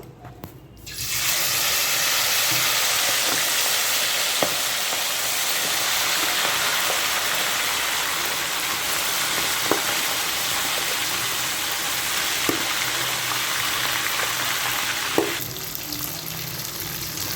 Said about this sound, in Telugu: ఈ ముక్కల్ని బాగా క్రిస్పీగా ఎర్రగా వచ్చే వరకు మనం ఫ్రై చేసుకుంటూ ఉందామండి.